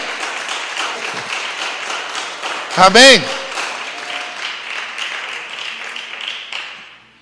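Applause from a church congregation carries on under a preacher who speaks over it, with one loud, brief spoken exclamation in the middle, and the clapping tails off at the end.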